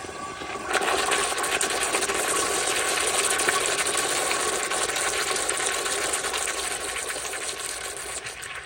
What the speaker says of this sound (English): So here is a very weak flush.